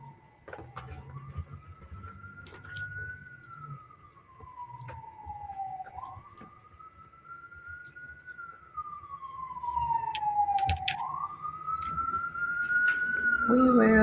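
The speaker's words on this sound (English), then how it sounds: "Can you hear that siren?" A siren wails outside, its pitch sweeping slowly up and down in long cycles, growing louder toward the end with some clicks and rustling nearby.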